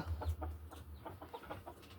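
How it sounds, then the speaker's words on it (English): Baby birds chirp inside a nest in a series of short, close, repeated calls over a steady low rumble, with no talking. "the rats are attracted because they can hear these chirping babies in here"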